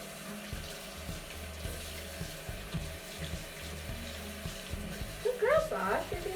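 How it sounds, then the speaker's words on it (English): Tap water runs steadily into a sink while a kitten is rinsed under it, a continuous close splashing stream with a voice speaking softly over it near the end. "And then we just rinse it."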